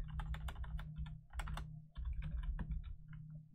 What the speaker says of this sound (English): Let's type it in here